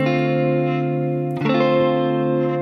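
Sustained electric guitar chord through a Hotone Ampero with stereo digital delay and studio reverb, ringing smoothly before a second chord is struck midway, its tail echoing and fading alone.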